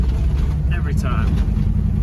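A 1972 Camaro with a 383 stroker engine drives along with a steady, close, low engine rumble that stays loud throughout, and a brief voice rises over it midway.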